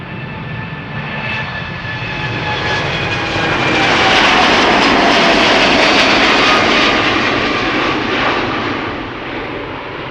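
An Air Europa Boeing 787-9 Dreamliner on its departure from Amsterdam Schiphol roars loudly, swelling to a peak midway and then easing as it climbs away, with a steady broadband engine rush and faint tonal whine throughout.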